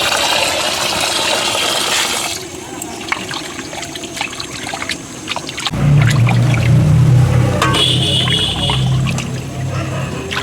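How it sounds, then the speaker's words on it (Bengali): Pangas fish being washed in water for a Barishal-style fish paturi: splashing and trickling water sounds close by, shifting to a heavier pouring, sloshing wash partway through. "মাছগুলো ধুয়ে নিচ্ছে"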